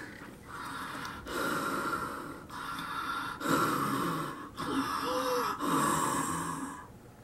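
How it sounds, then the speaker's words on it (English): A mouth-breathing person panting heavily up close, with loud rhythmic breaths roughly once a second, each rasping in and out. "Herbert's panting was kind of scary"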